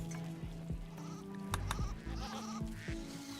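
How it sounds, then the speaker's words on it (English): Goats bleating in the colony sim RimWorld, several short wavering calls in quick succession, fairly close and clear over a busy game soundscape. "What kind of sounds does a goat make?"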